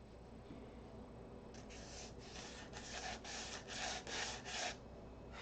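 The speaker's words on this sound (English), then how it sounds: "We'll sand that." A wooden board is sanded by hand with about eight rhythmic back-and-forth strokes, close and fairly soft, after a quiet start.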